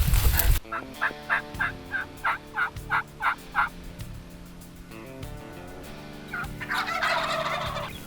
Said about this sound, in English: Tom found turkeys